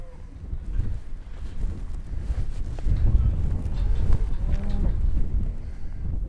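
A cow bawls on a cattle farm, giving a low drawn-out moo that rises and falls over steady wind rumble outdoors.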